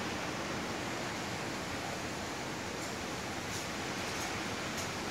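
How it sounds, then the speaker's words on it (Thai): A violent rain storm roars as a steady, loud broadband wash of downpour and wind, continuous and unbroken throughout with no voices. "พายุมาแล้วค่ะเพื่อนๆน่ากลัวมาก"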